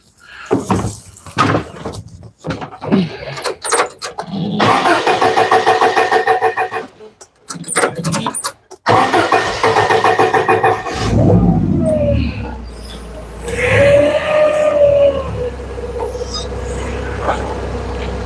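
A forklift is cranked and coughs into life after several broken starting attempts, then settles into a rough running idle, loud and close, with a few clanks and a voice briefly heard.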